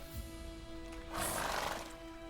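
Roach, a horse in The Witcher 3, gives a short whinny and snort over steady tonal game music, fairly quiet and a little distant.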